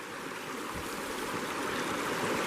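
Steady broadband rush of flowing river water, close and continuous, with no voices.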